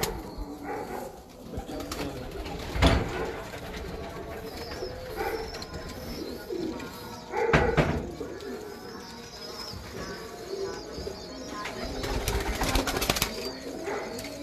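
Zain Jutt's breeder pigeons, including teddy pigeons, coo in low rolling bursts at close range, with a few sharp knocks and brief wing flutters breaking through.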